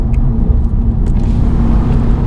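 An Audi RS3 five-cylinder engine roars loudly with a deep, rumbling growl, holding a steady heavy drone as it accelerates hard, close and unbroken.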